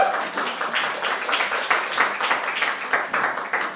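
An audience at a comedy show claps for brave volunteers, a dense, steady burst of many hands applauding together with rhythmic peaks throughout.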